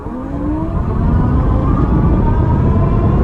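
A Haoqi electric scrambler motorbike pulls away at full throttle, its motor whine rising steadily in pitch as it accelerates, loud and close over road and wind rumble.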